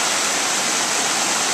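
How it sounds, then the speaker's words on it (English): Floodwater in Vermont rushes through a field in standing haystack waves, a loud, dense and unbroken roar with no breaks or voices. "haystacks of water"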